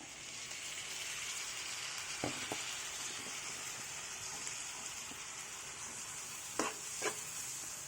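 Jackfruit seeds fry with tomato pieces in a pan, a faint steady sizzle with a few soft scraping stirs and clinks.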